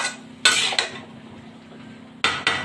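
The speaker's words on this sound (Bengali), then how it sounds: "এখন আবার ঢেকে দিচ্ছি," A metal lid set onto a pot of vegetable curry, two sharp clanks, a quiet pause with a low hum, then another pair of quick metallic knocks close by.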